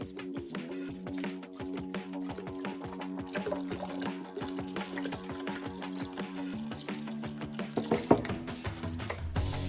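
Chicken broth pouring from a 32-ounce carton into an Instant Pot, a steady close liquid stream with faint dripping and splashing that picks up near the end.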